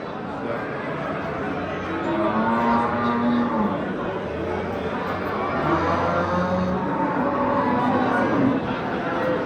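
Cattle at the Oqtepa livestock market in Bulung'ur district, mooing amid the steady chatter of a busy crowd of traders, with people talking throughout.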